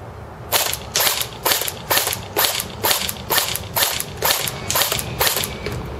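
SRC tan M4 airsoft rifle firing semi-automatic at a man-sized target 150 feet away on an outdoor range: a steady series of about eleven sharp, evenly spaced shots, each a crisp snap with a mechanical clack, with no talk.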